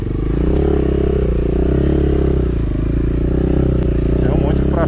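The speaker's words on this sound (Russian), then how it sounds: "Все, мотик прошел." A Chinese enduro motorcycle passing by, its engine droning loudly and steadily nearby with some clatter, while someone talks over it.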